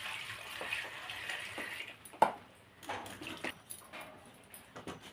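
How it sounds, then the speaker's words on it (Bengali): Carrots being rinsed in water two or three times, with soft splashing and sloshing close by, a sharp knock of a bowl or pan midway, then intermittent trickling and swishing. "গাজরটার মধ্যে জল দিয়ে দেবো, ভালো করে 2-3 বার ধরে ধুয়ে"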